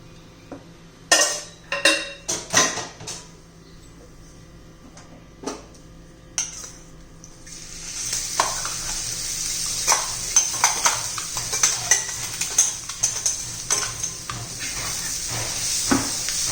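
A few sharp utensil clanks against a pan, then a steady, close sizzling hiss of peanuts roasting in oil on a hot griddle, with occasional scraping taps.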